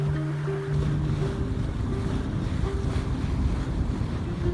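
Sailboat reaching through ocean waves past Whangaroa Harbour in New Zealand, with a constant wash of water along the hull, gusty wind buffeting the microphone and a low droning hum underneath, no talking.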